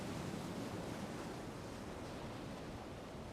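Ocean waves break on the shore under a light wind, a continuous broad wash of surf that stays steady and even throughout.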